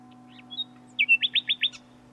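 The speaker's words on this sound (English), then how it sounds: "A nightingale began to sing." A nightingale sings alone in a quiet setting, with a couple of thin opening notes followed by a clear, rapid series of six bright repeated chirps, close and distinct over faint background hum.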